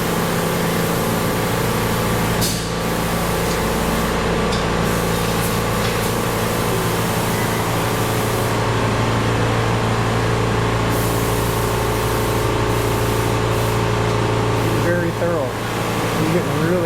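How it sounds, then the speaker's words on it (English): Rustproofing spray on the underside of a 2015 Ford F-250 truck: a continuous hissing spray runs alongside a steady mechanical drone for the whole stretch, with occasional soft knocks. "He's spraying on one side and the mist is coming out on this side."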